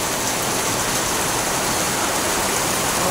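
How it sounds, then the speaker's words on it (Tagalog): Heavy rain pours steadily together with rushing, overflowing floodwater, forming a loud, dense and unbroken wash of water noise close by, with no voices heard. "Paano kaya kung tumagal pa yung ulan? O ayan na guys, umapaw na talaga."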